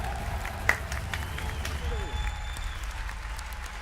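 A live audience at a PlayStation Experience 2017 stage show claps and cheers as a guest is welcomed, moderate applause with a whoop and a voice faintly over it.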